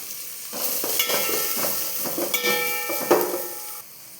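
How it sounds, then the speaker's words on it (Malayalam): A medium chopped onion sautés in a pan for a white chickpea curry, with a moderate sizzle and clattering, scraping stirs that come in uneven bursts, close by and with no voices. "ഇനി നമുക്കതിലേക്ക് ഒരു മീഡിയം സൈസ് സവോള കട്ട് ചെയ്തും കൂടെ ചേർത്ത് കൊടുത്ത് ഒന്ന് വഴറ്റിയെടുക്കണം."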